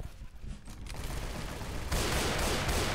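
Rapid bursts of video game gunfire as a player empties the ammo, dense continuous shots building louder toward the end, close and harsh, with no talking.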